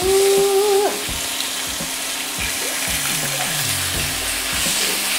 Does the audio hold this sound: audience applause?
no